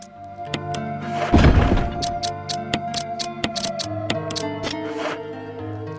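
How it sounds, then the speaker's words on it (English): A handgun being reloaded in the Resident Evil remake: a heavy thunk followed by a series of sharp metallic clicks and ticks over a low ambient game drone, close and distinct. "Let's reload it."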